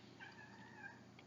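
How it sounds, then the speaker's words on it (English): A house cat meows softly at low level, a drawn-out tonal call with a brief second cry near the end, against steady room noise with no talking. "If you can hear the meowing, that's my cat talking."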